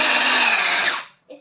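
An electric hand mixer beats butter for white chocolate cookies with a loud, high whirring whine, then stops abruptly, followed by a brief faint clatter.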